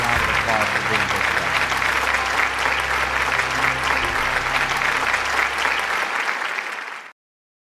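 An audience breaks into sustained applause at a presentation, loud dense clapping that keeps up for several seconds and then stops abruptly, with some speech mixed in at the start.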